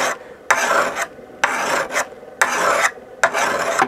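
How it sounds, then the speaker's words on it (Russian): A hand file rasps across a lawnmower blade on an AL-KO Classic 3.82 SE mower, five loud, evenly spaced grinding strokes with short gaps between them, close and alone. "то же самое можно сделать напильником"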